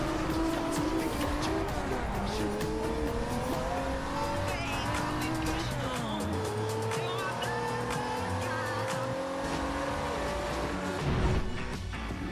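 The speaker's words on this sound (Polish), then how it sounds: "Pedał gazu w podłogę i ile fabryka dała." Car at full throttle in the racing game Forza Horizon 2, a loud continuous engine whine climbing through gears with tire squeal and skidding, under a voice talking.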